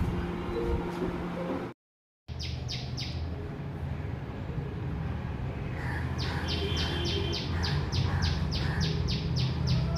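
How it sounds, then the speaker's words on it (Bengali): A bird calls repeatedly in quick, high, sharp notes, clearer toward the end, over a constant low background rumble with a brief dropout. "দেখো কোথায় ডাকছে পাখিটা"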